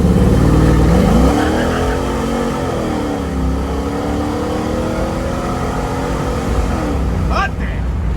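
The LS engine of a 1967 Chevrolet Camaro SS drones loudly and steadily from inside the car while it is being driven, with a pitch that rises and then settles. A voice talks over the engine throughout.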